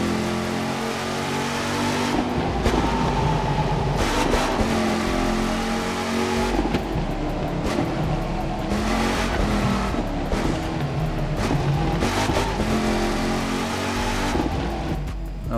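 Engine of a Dodge Hellcat street racing in the video game The Crew 2, a loud continuous roar with rising revs and abrupt drops at gear shifts, heard alone without talk.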